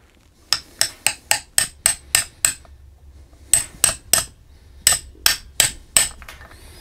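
Bearing tapped into a Grizzly G0781 mill with a hammer on a socket, three quick runs of sharp metallic blows, eight, four and five strikes, loud and close.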